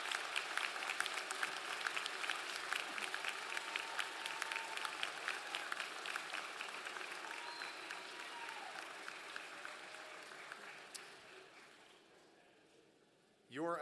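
Graduates at a university commencement ceremony give a long round of applause for their supporters, a sustained dense clapping crowd with cheering voices that slowly thins and fades before a voice returns at the end.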